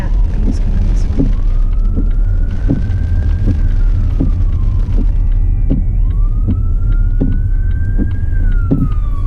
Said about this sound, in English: Ambulance was able to get by and see the road ahead.